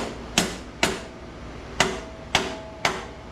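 Five sharp hammer strikes on metal while scrapping transformers for copper busbar, spaced unevenly with short pauses, each a bright clanging hit that rings briefly.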